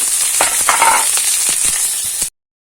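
Garlic, chilli and onion hit hot oil for a tempering in a Chhattisgarhi-style leafy greens dish, a loud close crackling sizzle with sputtering pops and a stir or two, ending in abrupt silence.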